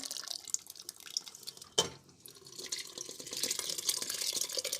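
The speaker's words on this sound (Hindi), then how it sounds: "ये पानी के साथ ही चने आराम से इसमें हमने ऐड कर दिए।" Boiled chickpeas are poured into a pot together with their cooking water, a soft wet splash and trickle with a sharper plop near the middle, fairly quiet and close.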